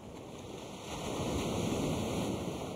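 Sea waves wash against the shore at Piraeus, a steady broad rushing surf that swells slightly louder midway, heard alone at moderate distance with some wind in the background.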